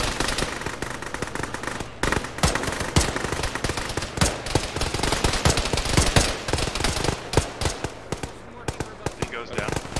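A jungle firefight in a video game: dense bursts of machine-gun fire and rapid single shots crack close by and echo, with a voice speaking over the shooting.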